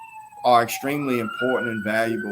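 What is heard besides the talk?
emergency vehicle sirens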